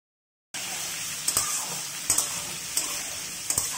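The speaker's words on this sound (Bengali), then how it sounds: "আগে থেকে করে রাখা সিদ্ধ আলুগুলোর খোসা ছাড়িয়ে আমরা আলুগুলো এবার ভেজে নেব।" Peeled boiled potatoes fry in hot oil in a wok. After a brief silence a steady close sizzle starts, broken by a few sharp spatters and clinks.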